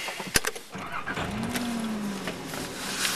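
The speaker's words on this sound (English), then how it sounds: "One sec, gotta start my car." A well-loved personal car's engine is started nearby with a sharp click and a brief crank, then settles into a steady low idle under a broad hum.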